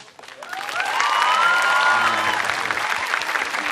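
Studio audience applause on an Indonesian television comedy stage show, swelling after a moment into steady full clapping with a few cheers, then holding for several seconds.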